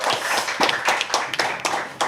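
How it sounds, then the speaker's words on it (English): Audience claps at a SpeakuP Monday speaking event, a burst of individual hand claps in a quick irregular rhythm, close and fairly loud, with no one speaking. "Let's clap."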